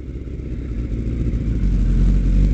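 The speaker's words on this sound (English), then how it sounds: "Let's give the D&D exhaust from our good friends at Fort Worth" A motorcycle engine fitted with a D&D exhaust revs up close and loud, a deep steady rumble that swells gradually over a few seconds with no talking.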